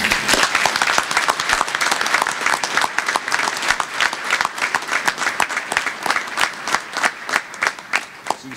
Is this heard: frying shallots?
no